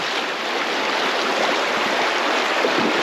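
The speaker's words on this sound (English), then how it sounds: "And that's how we cross the river in Alaska." Rushing river current swirls and pours steadily around a person wading across a river in Alaska, a broad close wash of moving water filling the whole clip without any talk.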